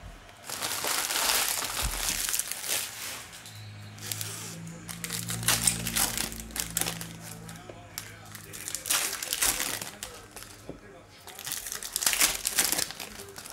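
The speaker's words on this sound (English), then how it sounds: "these packs rip very nicely" Foil Topps Chrome baseball card packs being ripped open up close, with bursts of loud crinkling and tearing wrapper noise repeating across the clip while someone talks intermittently over it.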